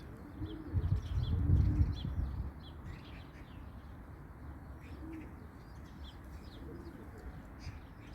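Pigeons cooing softly among many birds on the ground, a low murmur with a louder burst early on, then faint chirps over steady background noise.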